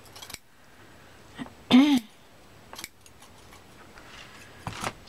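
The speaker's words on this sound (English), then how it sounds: "Let's go back to my good scissors." Good scissors cut cheesecloth for a junk journal, giving a couple of sharp crisp snips and a louder rasping cut near the middle, close up, separated by quiet handling clicks and rustles.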